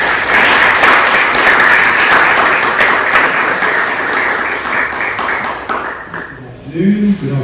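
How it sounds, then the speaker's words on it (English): A large audience gives a sustained round of applause for a speaker named Laurence at a talk on cash, dense clapping holding steady for about six seconds before fading out as a voice begins. "A big round of applause for Laurence."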